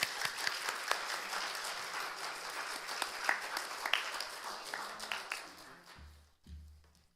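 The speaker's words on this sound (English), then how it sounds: "give everyone involved a well-deserved round of applause" A Unitarian congregation in Toledo applauds steadily, a dense patter of many hands that carries on for several seconds before thinning out and fading toward the end.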